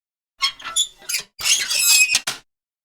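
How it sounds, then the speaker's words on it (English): A metal playground gate creaks open with squeaky hinge squeals, then swings shut with a longer creak and a short final squeak. "It's the sound of the gate opening to the playground"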